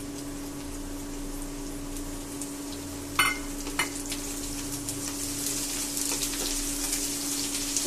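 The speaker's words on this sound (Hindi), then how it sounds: "अब थोड़े से भून चुके हैं, इसमें अब हम लोग पत्ता गोभी डालेंगे।" Cabbage and mixed vegetables fry in a pan with a steady, fairly quiet sizzle and a low hum underneath, broken around the middle by two brief sharp clinks or stirs; no one speaks.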